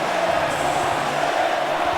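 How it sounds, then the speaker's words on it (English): Crowd chanting in a WWE 2K wrestling video game match, a dense steady roar of massed voices filling the arena, loud and continuous throughout. "the crowd has come alive tonight with a chant directed at the superstars of the ring"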